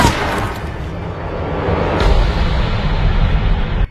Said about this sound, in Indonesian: Ketika komandan militer ingin menembak Leo, ternyata dia lebih dulu ditembak oleh seseorang